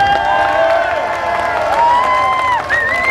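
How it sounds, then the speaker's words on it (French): Audience at a motorcycle charity event in Dole applauds and cheers loudly and steadily, a dense wash of clapping with shouts and whistles rising over it. "on va le voir tout de suite par vos applaudissements si le viral vous a plu"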